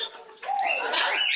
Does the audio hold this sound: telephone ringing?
no